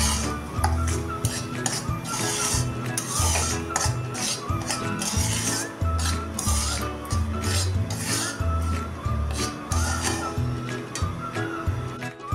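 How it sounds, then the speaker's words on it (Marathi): Semolina roasting in hot ghee in a pan, stirred nonstop with a metal spoon: rapid rhythmic scraping and clinking against the pan, loud and close throughout, with no voices. "रवा आता सतत हलवून चांगला भाजून घ्यायचा आहे"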